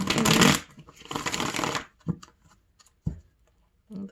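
Tarot cards being shuffled by hand in repeated riffling bursts, a long dense run followed by a few shorter quick flicks and taps, close and clear with no talking.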